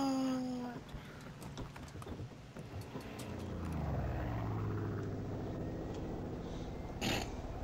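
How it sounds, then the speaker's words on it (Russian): A helicopter in the video game Far Cry drones and whirs past, its engine rising and sweeping in pitch, while the game plays on around it. "О, еще один вертолет."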